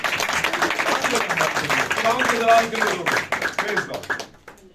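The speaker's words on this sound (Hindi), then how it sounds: "ताली बजाएं भाई के लिए" A church congregation claps for a brother, a dense burst of hand claps mixed with voices that gradually thins and fades toward the end.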